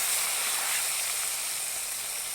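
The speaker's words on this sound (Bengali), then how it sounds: "মাছগুলোকে এখন আমরা সুন্দর করে কড়াইয়ের ভিতরে সব দিয়ে দেব" Continuous bright sizzling hiss of fish pieces frying in hot oil in a wok, steady and fairly close, with no talking.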